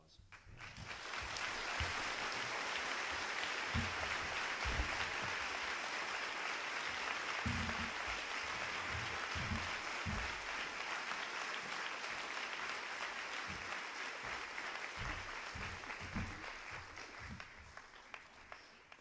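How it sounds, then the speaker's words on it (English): A high school senior awards ceremony audience gives a long, sustained round of applause, dense clapping that swells quickly and holds steady before tapering slightly at the end, with scattered voices and cheers mixed in. "She needs a huge round of applause."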